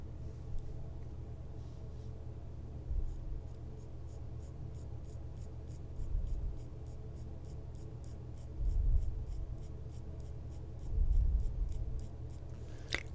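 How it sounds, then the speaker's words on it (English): A brow pencil scratching on eyebrows in close, quiet short strokes, a steady fine scratchy texture with a few louder low rubs every couple of seconds. "I fill in my eyebrows with a brow pencil"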